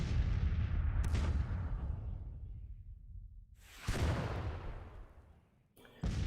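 Civil War artillery booms repeatedly in the strategy game Grand Tactician: three cannon shots from a battery, each a sharp heavy blast trailing off into a long rumbling decay, spaced a few seconds apart.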